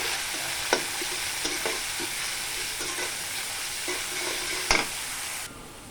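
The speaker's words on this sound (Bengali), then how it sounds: "এখন আমি মাছটা রান্না করব এই জন্য পরিমাণ মতো তেলটা দিয়ে দিব আমি সুন্দর করে পেস্টটাকে ভেজে দেবো" Ginger-garlic spice paste fries in oil for a fish curry, a loud continuous hiss with light stirring taps and one sharp clatter, then the sizzle drops away abruptly near the end.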